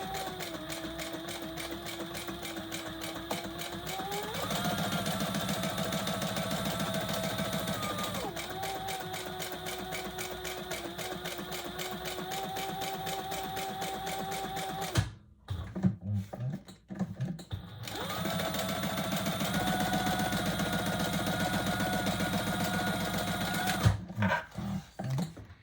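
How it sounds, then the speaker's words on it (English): A sewing machine stitches around the edge of a waist pack with a steady, close whirring hum. It changes speed several times and stops briefly for a few scattered clicks before running again. "on this one, we're just gonna stitch all the way around"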